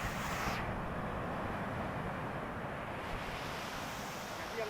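Ocean surf at Pantai Arang beach rolls in as a continuous broad roar, mixed with gusty wind buffeting the microphone, loud and unbroken throughout.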